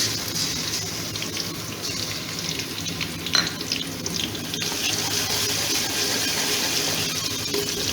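Steady, close sizzling of garlic ginger paste frying with onions in hot oil, a constant bright hiss with a brief clatter partway through; no talking.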